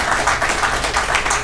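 Audience applause at the opening of a Georgia Power battery storage project, a steady patter of many hands clapping at moderate volume throughout.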